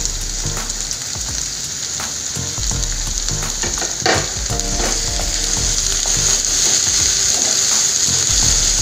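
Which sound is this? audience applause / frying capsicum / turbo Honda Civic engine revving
frying capsicum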